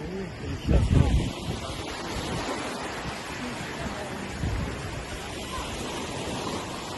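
Wind buffets the microphone in low rumbling gusts over a steady rushing background at a long beach near Pattaya or Koh Larn, Thailand, with a strong gust early on and another midway.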